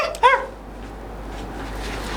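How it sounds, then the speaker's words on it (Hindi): A single short dog bark sounds early and close, followed by a quiet steady background hum. "अरे कौन सा कुत्ता भौंक रहा है?"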